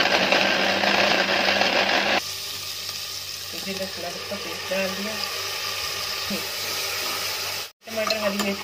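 Tomato and green chili paste frying in a pan, a steady close sizzle that drops in intensity after the paste goes in, with scattered clinks and a soft voice speaking briefly.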